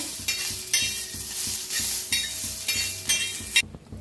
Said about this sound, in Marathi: मिरच्या गॅस कमी करून ठेवल्या त्या भाजायला